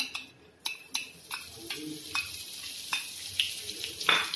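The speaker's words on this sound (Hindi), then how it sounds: "सबसे पहले मैं इसमें थोड़ी सी अजवाइन डालूंगी," Carom seeds (ajwain) sizzle in oil in a kadai, a steady frying crackle with several light clinks and stirring knocks spaced through it, close and moderately loud, no talking.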